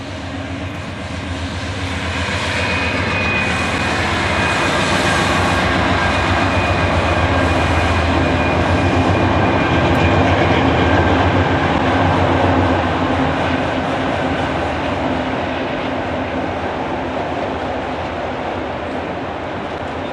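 An autorack freight train rolls past on a Class 1 main line, a loud, close, sustained rumble and clatter of railcars that swells and holds for the full twenty seconds, with a faint high whine running through it.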